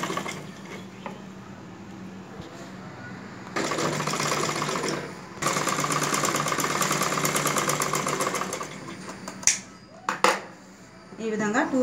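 A sewing machine stitches a folded hem on a dress in two long continuous runs of rapid mechanical whirring, close and loud, with a few brief clatters near the end and a person talking during the quieter start.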